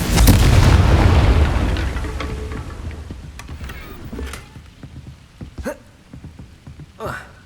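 A Confringo fire spell bursts in the video game Hogwarts Legacy, opening with a loud, deep booming explosion that decays into crackling rumble, followed by several sharp, smaller magical impacts and whooshes.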